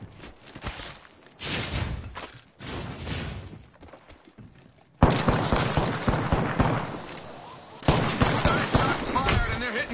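Video game gunfire mixed with explosive crashes, a mix of rattling bursts and heavier blasts that grows louder and denser midway, with game voices over it.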